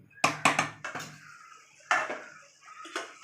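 Mutton curry being stirred in a pot, with a few quick metallic scrapes and clinks of a spoon against the pot in two short bursts, close and clear with no talk.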